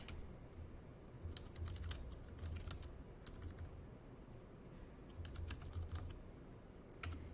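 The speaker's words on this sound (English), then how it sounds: "So then you would start typing that." Bursts of quiet keyboard typing in Celtx screenwriting software, quick clicking keystrokes in irregular runs with short pauses between, close and soft.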